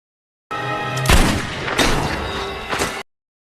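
A pistol shot in a film strikes the ice layer on a frozen lake, a sharp heavy bang followed by a second crack and rumbling, shattering reverberation, loud and close, with no talk.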